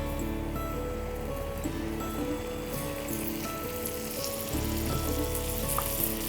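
Ghee is stirred into a milk-based mixture cooking over a low flame, producing a steady, moderate sizzle with a faint continuous hum and light scraping throughout, with no voices present.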